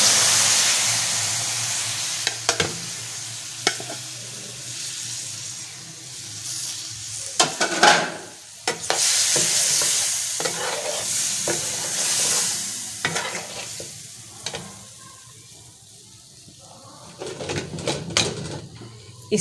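Aloe vera goes into a pan for halwa and is stirred, with a crackling sizzle, repeated spoon scrapes and knocks, and uneven bursts of activity that fade and pick up again.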